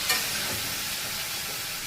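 Ginger-garlic wash water poured into powdered spices frying in a pan, giving a steady, close hiss of sizzling with a brief splash at the start and no talk.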